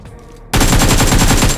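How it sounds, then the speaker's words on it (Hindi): Loud, rapid automatic gunfire from the mobile battle-royale game BGMI (PUBG Mobile), a sustained burst of close, evenly spaced shots starting abruptly after a short quiet lead-in. "अब मैं यहाँ पे स्मोक में गोली चलाता हूँ"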